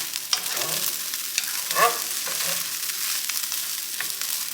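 Leafy greens sizzle and hiss in a hot pan of fried rice with sausage, a steady frying crackle with soft stirring scrapes, close and fairly loud, no voices.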